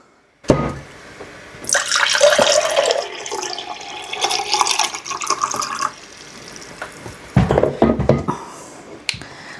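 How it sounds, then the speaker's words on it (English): Tap water runs and splashes onto plant roots held under it, rinsing off perlite, with brief handling noises and a sharp click at the start; no one speaks. "So I'm going to rinse it with water"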